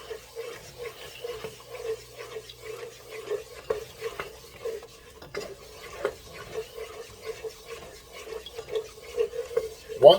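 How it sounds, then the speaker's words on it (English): A spoon stirs dark roux around a pot on a stovetop set to low heat for Cajun jambalaya, making steady repeated scraping strokes with a faint sizzle underneath, close and fairly quiet throughout. "And right now, we're just currently stirring this all around."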